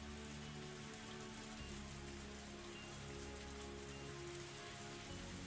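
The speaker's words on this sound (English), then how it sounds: "the percussion of the rain on the roof" Torrential rain drums steadily on a car roof, a dense, even downpour that continues alone without pause as a visual novel sound effect.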